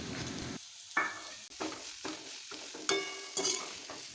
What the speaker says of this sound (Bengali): ততক্ষণ অবধি আপনারা পেঁয়াজটা নাড়তে থাকবে